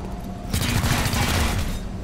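A rapid burst of gunfire in the XCOM Chimera Squad video game, loud and close, rattling steadily for about a second and a half over a low background hum.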